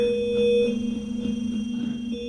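Electronic music from a synthesizer built into concrete hums with sustained steady tones and a low droning pulse, faintly wavering, with no voices.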